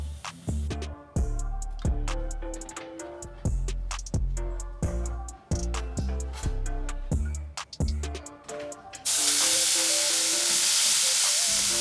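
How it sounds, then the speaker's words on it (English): Rhythmic plucked music plays for most of the stretch before oxtail meat hits a hot pot for braising, setting off a loud, steady sizzle that fills the last few seconds, with no voices. "I'm gonna be adding all the meat in the pot at once and stir it a little, braise it"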